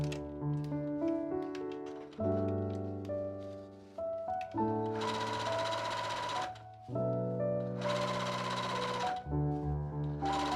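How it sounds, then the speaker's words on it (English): Sewing machine running a gather stitch along a sleeve for a watermelon dress, the motor whirring in several steady bursts that stop and restart, close and alone with no talk. "Sew a gather stitch between the two marked notches of the sleeve."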